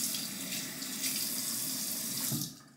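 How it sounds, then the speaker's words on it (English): Tap water runs steadily into a sink while being added to shaving soap lather, a continuous loud splashing hiss that cuts off abruptly at the end. "let's just do one more water addition here, trying to redistribute the lather"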